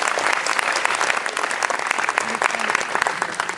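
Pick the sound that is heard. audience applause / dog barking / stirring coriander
audience applause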